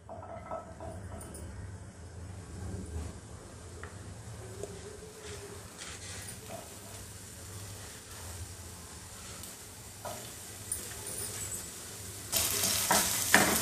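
Onions fry in oil in a pan with a steady, continuous sizzle, stirred now and then with occasional scraping and clinks, growing brighter and louder near the end.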